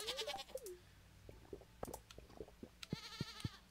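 Sheep bleating in the Stardew Valley farming game, a few short nasal calls near the start and again toward the end, mixed with rapid game clicks and tool effects, with no talking.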